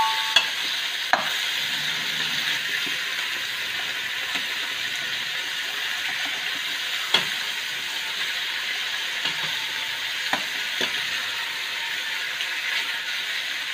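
Pork belly sautéing in a pan, a constant frying sizzle broken by intermittent sharp clicks and knocks of the spatula as the pieces are turned, no one talking.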